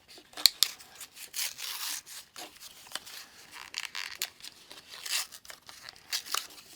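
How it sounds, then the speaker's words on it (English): A dull knife slicing and sawing through cardboard packaging, close and fairly quiet, with irregular scraping, tearing rasps and a couple of sharp clicks. "Let's get this dull knife right here and cut this cardboard open."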